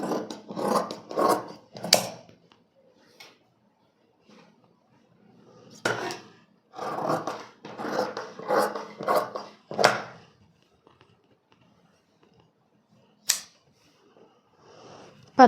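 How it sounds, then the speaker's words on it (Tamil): Scissors cut through blouse sleeve fabric in short rhythmic bursts of snipping and rasping, close and fairly quiet, with pauses and a few isolated clicks between groups of cuts. "இது ஸ்லீவ் நான் அப்படியே கட் பண்ணிக்கிறேன்."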